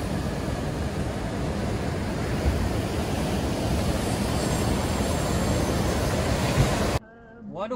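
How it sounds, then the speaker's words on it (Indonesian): Big ocean waves crash and roar continuously along a west coast shore, a dense, loud wash that fills the scene before cutting off abruptly near the end. "Ombaknya lumayan gede-gede ya kalau di pesisir barat."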